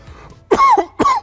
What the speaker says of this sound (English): Apologies for the coughing there.